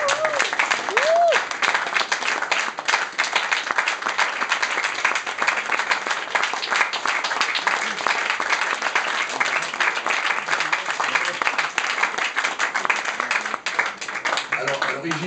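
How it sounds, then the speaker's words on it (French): Audience applause during an art showcase at the OFF de Cannes 2011 event at Hôtel Embassy in Cannes, with continuous, even clapping from a sizable crowd lasting the full stretch at a steady level. "c'est une œuvre de Frank Katz, que vous pouvez applaudir dès maintenant"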